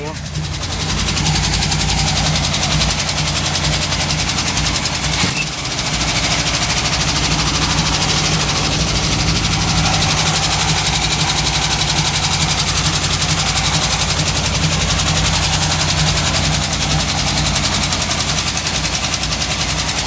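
A 1958 Chevrolet Biscayne engine idles steadily after a carburetor rebuild, a loud, close, continuous running rumble with an even rhythm and no pauses.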